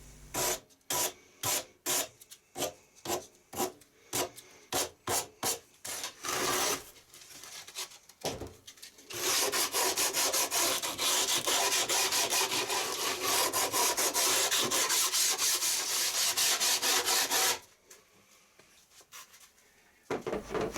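Edges of a wooden guitar former being softened by hand, starting with a series of close rhythmic rasping strokes, then a longer continuous scraping rub, ending with a few more strokes.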